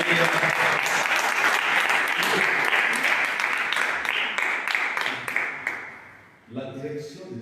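A church congregation applauds loudly and continuously, dense clapping filling the space before fading near the end as voices and music rise.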